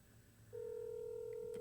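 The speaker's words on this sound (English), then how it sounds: "Let me hear the ringtone. It's ringing." A telephone call ringing out, heard as a steady electronic tone that starts partway through and holds on unbroken, with a low hum underneath.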